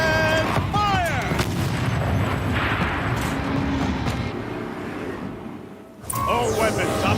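Heavy turret weapons in the Horizon Zero Dawn video game fire in a loud booming volley with rumbling blasts, fading briefly before a sharp metallic burst returns; a voice speaks over it.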